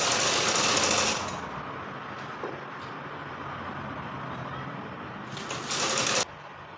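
A sewing machine hems fabric in a steady, fast mechanical whir that stops abruptly, pauses with a low background hum, then runs again in a short final burst.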